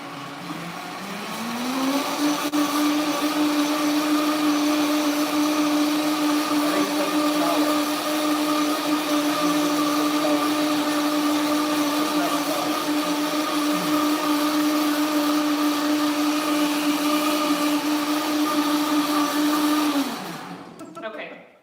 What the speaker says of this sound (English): if you're gonna blend flour in your Vitamix